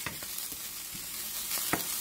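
Vegetables frying in olive oil seasoned with onion powder, giving a quiet, steady sizzle broken by a few brief stirring scrapes, with no voices.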